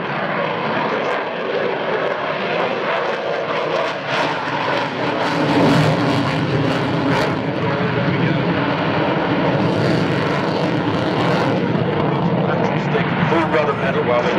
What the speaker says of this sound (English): the United States Navy's newest and most advanced multi-role strike aircraft, the Super Hornet